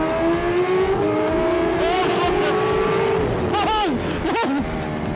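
A Kawasaki H2R motorcycle leaves a left-hand corner onto a track's pit straight at wide-open throttle, its loud engine whine rising in pitch and breaking through two rapid gear shifts toward the end.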